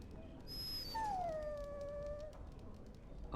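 A dog in Dragon Age: Origins lets out a drawn-out, falling whimper-howl alone, fairly clear, after a brief high tone, over steady game ambience.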